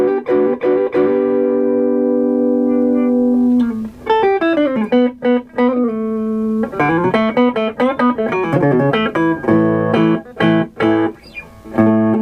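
Harley Benton XT-22 electric guitar played clean through its Roswell neck humbucker, with sustained chords and melodic single-note runs ringing out steadily and loud, with no talking.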